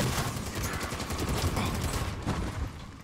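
Dense rapid gunfire in a video game, a sustained burst of overlapping shots and automatic fire at moderate level, filling the whole moment without speech over it.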